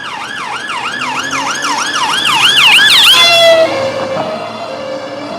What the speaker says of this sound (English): Oh, I can hear sirens.